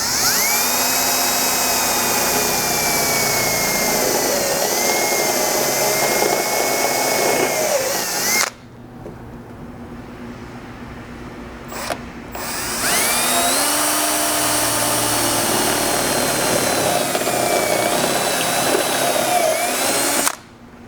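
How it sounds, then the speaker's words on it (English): Two long bursts of an electric drill boring 1/4 inch holes for a Jeep XJ hatch ladder bracket, each steady whine lasting about eight seconds, loud and close, separated by a short pause. "go ahead and drill a 1/4 inch hole in each of those locations"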